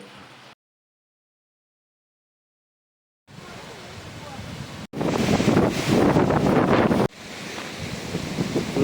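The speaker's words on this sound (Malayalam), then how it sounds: "അങ്ങനെ അവിടെ നല്ല കാറ്റ് കിട്ടും ഭയങ്കര എന്ന് പറഞ്ഞാൽ ഭയങ്കര കാറ്റ്" Strong wind buffets across a hilltop, roaring loudly against the microphone in sustained gusts after a brief silent gap.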